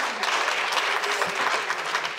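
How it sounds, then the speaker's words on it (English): Applause from the audience at a closing keynote of a summer forum: a dense, steady clapping that stays fairly distant and even from start to finish. "Can you just give each other a round of applause for sticking it out today?"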